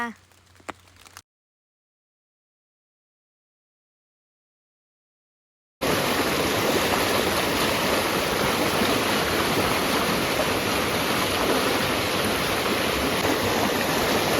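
After a brief bit of muffled noise and a stretch of silence, flowing stream water rushes steadily and loudly for the rest of the clip.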